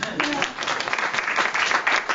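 Audience at a live awards celebration clapping for an absent winner, a moderately loud, continuous patter of applause from a mid-sized indoor crowd.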